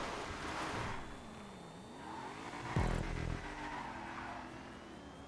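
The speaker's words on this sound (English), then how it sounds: "That Bentley does sound good, though." A Bentley's big V12 engine in GTA Online hums along at moderate volume and changes pitch as the car rises and falls through the revs, with a louder surge partway through.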